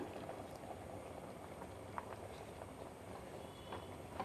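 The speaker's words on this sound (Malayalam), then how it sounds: "ഇനി അരപ്പ് നന്നായിട്ടൊന്ന് തിളച്ച് കുറുകി വരണം" A thick roasted-coconut spice paste with tamarind bubbles softly in a pot of sambar, with quiet irregular pops and blips over a low simmering hiss.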